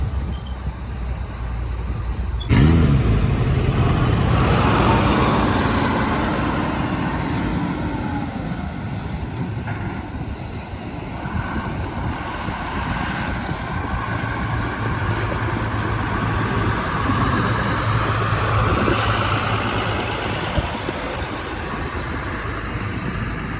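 Powerful twin 140 hp Suzuki outboard boat engines roar close by, then settle into a sustained throbbing hum that carries on steadily, with wind noise and no speech.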